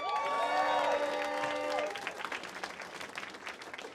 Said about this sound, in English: Can I get a round of applause for military spouses?